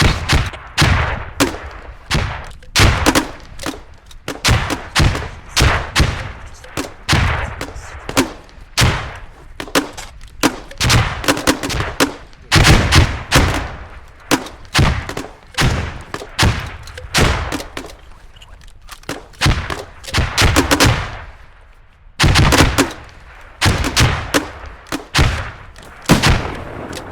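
Loud video game gunfire cracks out in rapid bursts and single shots, some overlapping like automatic fire, with brief gaps between volleys, close and sharp throughout.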